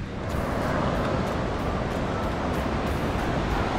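Rough sea rushing past a speedboat on an island-hopping trip, a loud, continuous roar of water and wind noise with faint periodic thumps as the hull slaps the waves; no voices.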